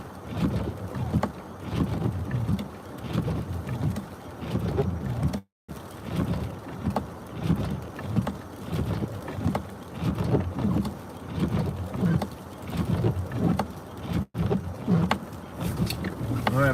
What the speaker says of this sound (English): Gonna go back into that freezing rain.